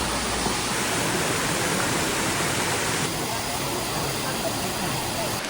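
Waterfalls splash among small shrines and statues in the Magic Garden on Koh Samui, a steady broadband rush of falling water that stays loud and unbroken throughout.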